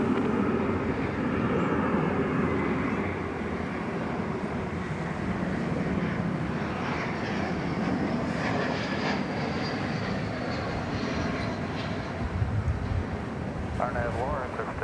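An American Airlines Airbus A321 arrives at DFW under a pink evening sky, its steady broadband jet roar filling the air throughout, with a person talking over it.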